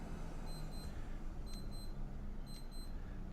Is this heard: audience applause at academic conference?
no